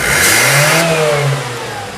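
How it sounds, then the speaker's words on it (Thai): A car engine revs loudly and close after a carburetor repair, climbing in pitch, holding briefly, then easing back toward idle. "ตอนนี้ เราจะเร่งให้ดูก่อนนะ"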